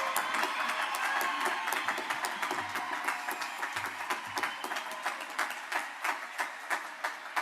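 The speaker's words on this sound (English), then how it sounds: "One more round of applause, please, for our most impressive graduates" An audience applauds the Elizabethtown College class of 2024 graduates at their commencement ceremony, a sustained wash of clapping from a large crowd that softens into scattered rhythmic claps toward the end.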